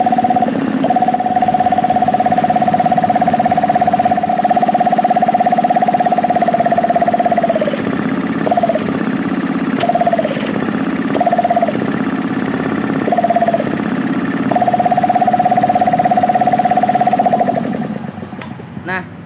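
Small air compressor motor running steadily and loud with a constant hum, briefly interrupted several times as the intake is covered and uncovered by hand, then resuming before cutting off near the end.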